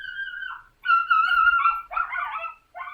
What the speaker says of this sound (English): And I apologize if you hear my dog in the background.